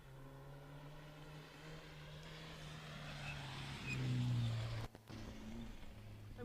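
An MG3 rally car on a forest stage passes close by, its engine note rising to a loud peak and then cutting off abruptly, with exhaust pops as the throttle lifts before the drone resumes.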